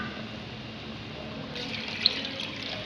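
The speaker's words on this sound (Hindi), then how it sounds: "अब हम डालेंगे पानी।" Water is poured steadily into a cooking pot for rice pulao, a continuous splashing rush with a slight rise partway through.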